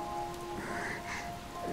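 Rain falls steadily in a cutscene from the video game AFK Journey, a soft continuous patter on surfaces with faint tonal music lines underneath.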